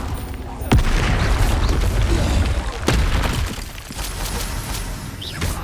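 Bombarda spell explosions in the Hogwarts Legacy video game, with sharp booming blasts and shattering bursts at intervals over a constant rumble of combat noise.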